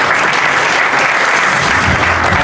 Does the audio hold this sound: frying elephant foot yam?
no